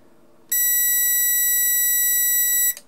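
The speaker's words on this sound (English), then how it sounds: "And again, it's going to beep. It's going to be loud." A loud, steady high-pitched electronic beep from a multimeter continuity test sounds for about two seconds, then cuts off abruptly.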